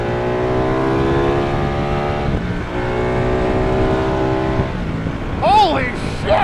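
A Ducati motorcycle engine at full throttle, a loud, harmonically rich rising whine that climbs through the revs, briefly dips as if shifting, then pulls again, with a voice breaking in near the end.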